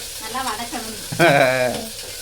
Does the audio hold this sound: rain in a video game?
no